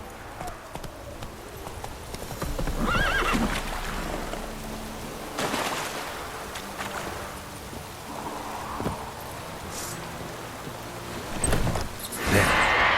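Roach, the horse in the video game The Witcher 3: Wild Hunt, gallops with rhythmic clip-clopping hooves, with occasional whooshing surges, a brief snort and a louder burst near the end, over game ambience.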